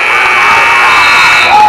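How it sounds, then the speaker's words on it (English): A loud, sustained electronic buzzer blares over a cheering crowd at the end of a high school girls' basketball game in a gym. "and the buzzer will sound."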